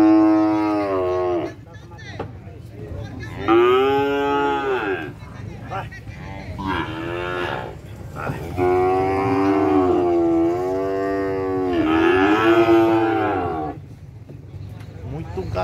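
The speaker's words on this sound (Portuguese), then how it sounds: "chegada do gado" Cattle at a livestock fair moo in long, loud, drawn-out calls, several overlapping bellows rising and falling one after another with crowd noise underneath.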